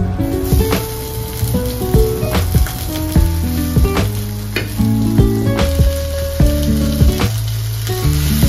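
Vegetables fry in a pan with a continuous crackling sizzle, set under tonal background music with plucked and sustained notes.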